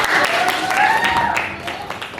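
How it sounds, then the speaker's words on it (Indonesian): A classroom group claps briefly for a presenting group, a short burst of fairly close applause mixed with voices. "tepuk tangan untuk kelompok 4"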